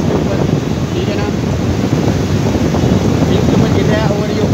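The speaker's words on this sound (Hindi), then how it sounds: "ये हमारा कूलिंग टावर है, ये इस दौरान इस वक्त रनिंग के अंदर है" A cooling tower running with its fans turning overhead and water falling over the fill gives a loud, steady, broadband roar that continues unbroken from start to finish.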